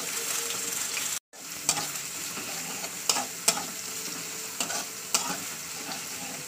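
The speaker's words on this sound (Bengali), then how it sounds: "প্রথমে পেঁয়াজটা আমি একটু লাল হতে দেবো" Onions browning in a pan for chicken kosha give off a constant sizzle, briefly dropping out, then several distinct spatula scrapes and knocks against the pan at irregular intervals.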